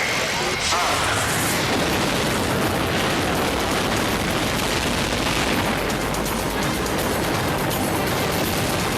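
Saturn V rocket engines ignite at launch with a loud, sustained broadband roar and crackle, rumbling and dense for the full nine seconds with no break in intensity.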